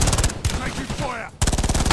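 Rapid automatic gunfire in the Call of Duty Warzone video game, loud dense bursts opening and closing the stretch with a brief lull of muffled noise between them.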